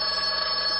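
A telephone rings at an employment agency office. The bell sounds as a steady, bright metallic tone throughout a very short moment, with no voices.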